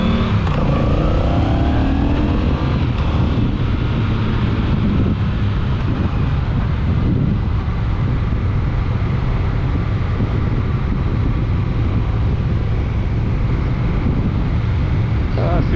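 A Honda Rebel 1100T motorcycle on the road, its engine a steady loud drone under heavy wind buffeting, with a rider talking over it.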